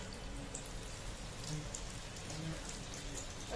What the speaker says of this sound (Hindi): स्लो आंच पे हम इसे फ्राई होने देंगे